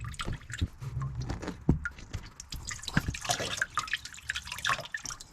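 Water draining from the V-drive drain plugs of a Moomba wake and ski boat being winterized, an uneven trickle with scattered drips and splashes, fairly faint and close.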